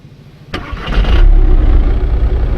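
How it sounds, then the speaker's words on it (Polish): A diesel engine in the Arma III video game cranks with a sharp starter burst, then catches and settles into a loud, steady, rumbling idle close up. "Boże, zapalił jak traktor! Dieselek!"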